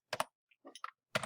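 Keys on a computer keyboard clatter as a web address is typed, with a quick pair of clicks, a short pause, a few lighter taps and a final burst of keystrokes, close and clear with no talking.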